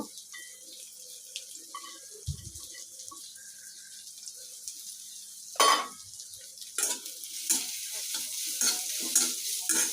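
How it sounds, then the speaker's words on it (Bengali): Chopped onion and garlic fry quietly in a wok, a soft sizzle punctuated by scattered clinks and scrapes of stirring that grow busier toward the end. "পেঁয়াজ কুচি আর রসুন কুচিটা খুব সুন্দর করে আমি এখানে ভেজে নিব"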